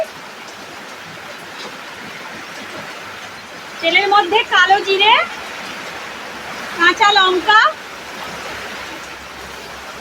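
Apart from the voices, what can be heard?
heavy rain outside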